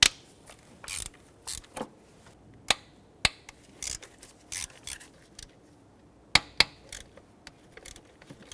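A hand ratchet clicks in short, irregular bursts while breaking bolts loose on a 4.0L V6 Nissan Frontier engine during a spark plug job, close and crisp with quiet gaps between strokes and no talking.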